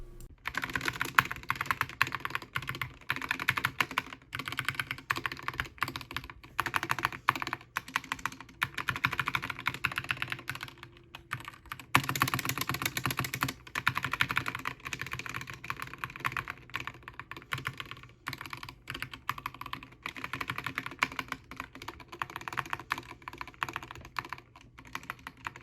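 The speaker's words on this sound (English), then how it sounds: "The keystrokes on this keyboard are on the louder side, and I will do a sound test right here." Rapid, continuous typing on a SteelSeries Apex Pro TKL mechanical keyboard, loud and close, with clacky keystrokes in an uneven rhythm throughout and no talking.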